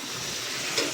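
Vegetables fry in a pan on a low-heat home stove, giving a steady, soft sizzle with faint crackles and no talk.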